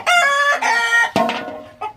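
A rooster of over five kilograms crows loudly and close by, one long harmonic call followed by a second broken crow, with brief clucking at the end.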